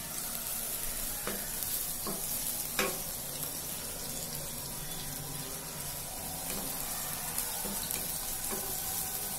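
Onions frying in hot oil with dry red chili, cumin and coriander powder for hilsa pilau, a steady broadband sizzle with a few soft clicks of stirring, no voices.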